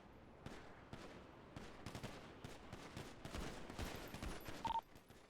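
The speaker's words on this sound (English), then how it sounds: "Looks like there's gunfire from the 2nd row as well." Rapid gunfire in a GTA roleplay game, with repeated sharp bursts of shots crackling at a low, distant level, clustered in quick volleys that grow denser near the end.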